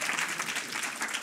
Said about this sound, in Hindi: हाँ हाँ, तुम ऐसे तालियां बजाते रहना।